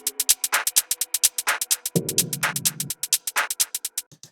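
A programmed drum pattern in Ableton with two notes swung off the beat: rapid, crisp hi-hat ticks and punchy hits in a steady groove, with a low sustained tone entering midway, loud and close.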